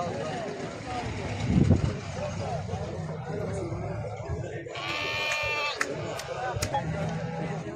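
Goats and sheep bleat repeatedly at a livestock market in Mashtaga, Azerbaijan, several animals calling near and far over a busy crowd murmur, with people talking throughout.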